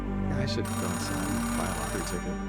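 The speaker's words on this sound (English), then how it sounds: "Payphone ringing in the wild?" A payphone rings in the video game Oxenfree II, a steady electronic ring running throughout while a person speaks over it.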